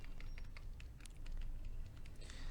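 A name is typed on a computer keyboard in quick, light key taps, a short irregular burst heard close but quiet over a low background hum.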